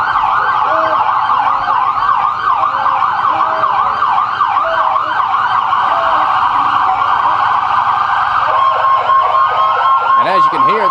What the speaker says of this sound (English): the excitement is building with sirens and more, with the Ponchatoula Police and Fire Departments rolling through right now